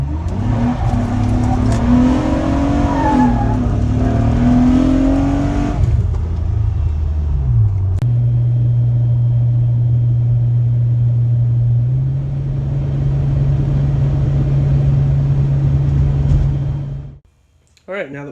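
Acura J35 engine from a Pilot, running naturally aspirated with the supercharger removed, revs hard on a dyno and rises through the range, then settles into a loud steady drone before cutting off abruptly near the end.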